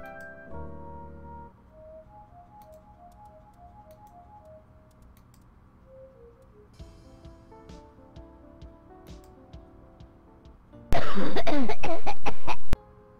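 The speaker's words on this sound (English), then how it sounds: "You hear a cough." A single sharp cough stands out late in a quiet passage of soft ticking and faint tones from a dark, misty forest scene in a text adventure game, loud and brief before fading.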